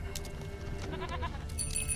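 A goat in The Witcher 3 gives a couple of short, wavering bleats against a constant low ambient drone, moderately close, with no talking.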